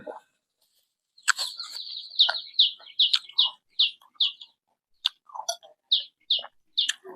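Birds chirp nearby in quick bursts of bright, high tweets, some repeated in a rapid series, with short pauses between calls.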